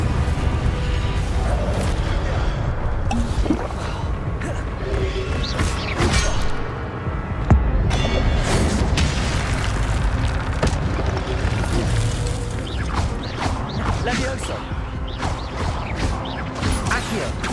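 The Incendio fire spell is cast again and again in the Hogwarts Legacy game, loud whooshing fire bursts and booms mixed with clattering mechanical creaks and impacts, steady and dense throughout.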